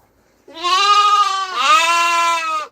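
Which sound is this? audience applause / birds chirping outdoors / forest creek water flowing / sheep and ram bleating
sheep and ram bleating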